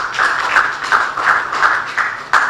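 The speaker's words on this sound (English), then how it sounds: "I think we deserve a higher clap than this." Audience at a university gathering in northern Nigeria claps in a regular pulsing rhythm, each burst of many hands swelling and fading, moderately loud and without talk.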